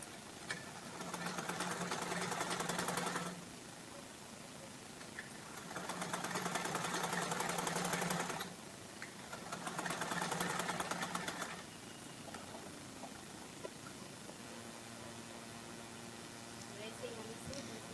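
A sewing machine stitches a simple blouse in three whirring bursts of roughly two to three seconds each, separated by quieter pauses, with faint talk between runs.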